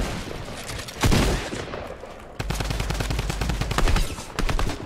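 Video game gunfire rattles out in rapid automatic bursts, one sharp louder shot standing out before a second stretch of fast repeated fire, fairly close and with no talk over it.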